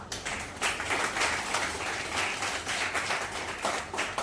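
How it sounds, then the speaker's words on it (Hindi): A church congregation clapping for itself during a sermon: steady, dense applause from many hands throughout, moderately loud with a broad, roomy sound and no talk over it. "एक अपने लिए ताली बजाएं।"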